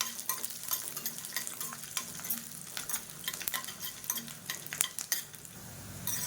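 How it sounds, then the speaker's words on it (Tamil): Garlic cloves frying in hot oil in a pan for a spicy garlic chilli chutney, a steady crackling sizzle with occasional scraping stirs, close and continuous. "பூண்டு நல்லா பொரிய ஆரம்பிச்சிருச்சு"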